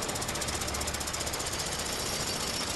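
Loud, continuous rapid hammering of a jackhammer drilling in the video game A Way Out, dense and unbroken throughout, with no voices.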